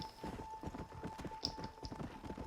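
Horse hooves clip-clop at a steady, brisk gallop rhythm while riding in Red Dead Redemption: Undead Nightmare, with a faint constant tone and a few soft game effects underneath.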